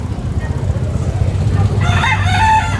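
Roosters crowing among chicken coops along a city street, a loud nearby cock-a-doodle-doo rising late over a background of engine rumble and murmuring voices.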